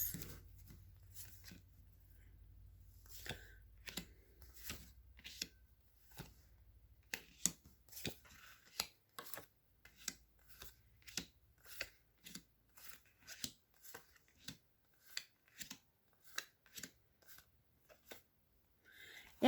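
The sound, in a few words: shuffling tarot cards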